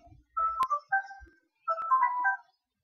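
A mobile phone rings with an incoming call, playing a short melodic ringtone in two phrases separated by a brief pause, clear and fairly close, with no one talking over it.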